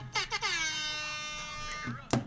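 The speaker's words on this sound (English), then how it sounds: "Gotta love the air horn, bro." A long, loud air horn blast holds steady for about two seconds after a couple of short opening honks, ending with a brief thump.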